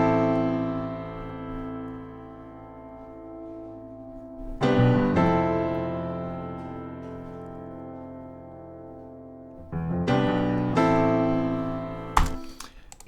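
Deep bass notes recorded on a real piano blend with plugin piano chords for a 2000s-style cinematic sound, with sustained ringing tones that decay slowly, then fresh struck chords around the middle and again near the end.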